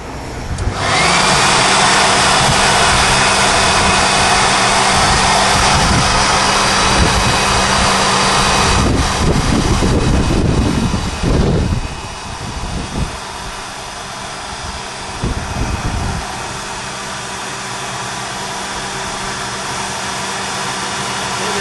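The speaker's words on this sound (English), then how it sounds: "when you're turning on the blower, let it run for a while to go ahead and activate the filter." A blower powers a gold refining filter system, roaring loud and steady with a broad whooshing rush and low hum, then easing somewhat partway through and running on at a lower level.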